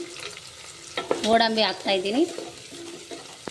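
Onions, cashews and potatoes fry in a pan for a mint pulao, a soft continuous sizzle heard close up beneath a person's voice speaking briefly in the middle.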